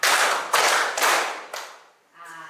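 Children in a classroom clap out a rhythmic pattern together, four sharp group claps spaced about half a second apart, loud and close, followed by a faint tonal sound.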